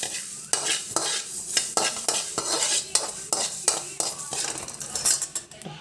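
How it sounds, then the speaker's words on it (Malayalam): Mustard, fenugreek and cumin seeds roast in a pan while being stirred. A spoon scrapes and clinks against the metal in a quick, irregular rhythm over a light dry sizzle, close and fairly loud. "മറ്റൊരു ചീനച്ചട്ടിയിലേക്ക് കടുകും ഉലുവയും ജീരകവും ഒന്ന് ചൂടാക്കിയെടുക്കാം"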